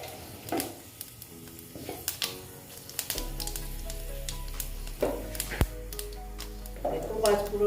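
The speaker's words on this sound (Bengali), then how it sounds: "দেখো, পাঁচফোড়নটা আমি ভালো মতন ভেজে নিচ্ছি।" Panch phoron whole spices frying in hot oil for a vegetarian katoa data (drumstick) dish, a steady sizzle with crackles and stirring clatter, close and moderately loud, with a voice talking over it and a low hum entering partway.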